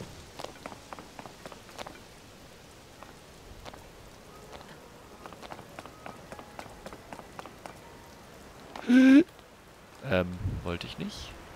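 Rain pattering in The Legend of Zelda: Tears of the Kingdom, a soft steady patter of drops with scattered ticks, faint and continuous, while a person talks and louder game sounds break in near the end.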